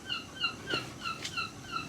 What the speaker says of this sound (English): Seagulls are about.